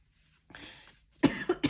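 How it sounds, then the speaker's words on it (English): A few short, close coughs, preceded by a quiet breathy throat sound, with no talking. "my goodness, like I'm coughing now"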